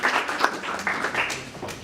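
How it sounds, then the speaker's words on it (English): Audience at a convention panel clapping in a short burst, moderately loud and steady for under two seconds. "Round of applause for Gravity Falls."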